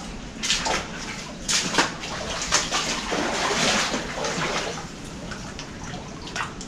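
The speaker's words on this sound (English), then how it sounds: "I like the sound of the water just being inside the mine." Water drips and trickles inside an old lead and copper mine in North Wales, a run of splashy drops and flowing water echoing up close, with irregular louder spatters over a continuous wash.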